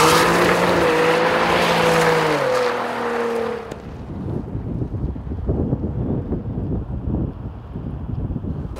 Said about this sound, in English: I'm gonna turn the traction control off. I'm gonna try to accelerate up this hill.